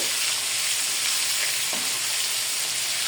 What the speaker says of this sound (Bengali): সেগুলো দিয়ে আমি পালং শাকটা ভাজি করে দিতেছি